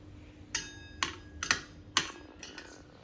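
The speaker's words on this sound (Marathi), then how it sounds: "त्याच्यानंतर परत मिक्स करायचं आहे" A spoon clinks against a bowl while a dish is mixed, with about six sharp metallic taps at uneven intervals, close and fairly quiet, with no talking.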